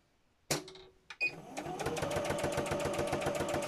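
A sewing machine runs in a steady, rapid stitching rhythm while sewing a fabric needle book cover, starting after a few short handling clicks and knocks, close and fairly loud.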